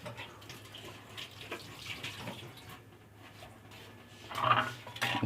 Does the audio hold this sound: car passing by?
no